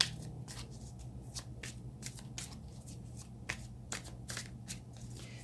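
Tarot cards shuffled by hand, a continuous run of soft riffling flutters and taps, close and moderately quiet over a low background hum, with no talking.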